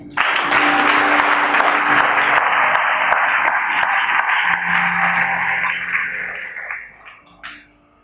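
A church congregation erupts in sustained applause and cheering to acclaim the Lord, a dense roar of clapping and voices that holds steady for several seconds, then tapers off to scattered claps.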